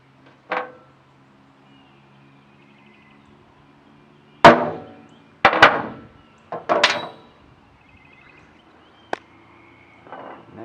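A punch is struck with a hammer against the valve seat of an ATV carburetor in a workshop: a few sharp metallic knocks, one single blow and then a quick cluster, separated by quiet gaps, close and clear.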